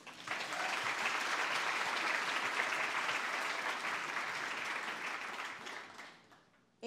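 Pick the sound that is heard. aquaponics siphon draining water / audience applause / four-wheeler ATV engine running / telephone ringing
audience applause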